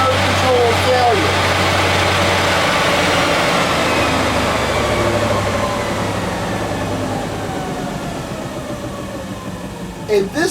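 A NordicTrack treadmill motor with a failing motor controller runs loud and steady, a constant droning hum with tonal whine that eases slightly toward the end, ending in a couple of brief knocks.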